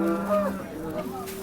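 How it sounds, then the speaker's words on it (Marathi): Cattle at the Modnimb livestock market, where bulls and heifer calves are traded, let out a single close, loud moo with a drawn-out lowing tone lasting about a second and a half. "आज विशेष म्हणजे बाजारामध्ये बैल आलेत बघा"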